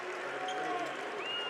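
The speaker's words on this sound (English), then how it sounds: "a round of applause from the Elkins fans" Elkins fans applaud at a high school basketball quarterfinal against Bridgeport, a steady wash of crowd clapping that fills the gym from start to finish.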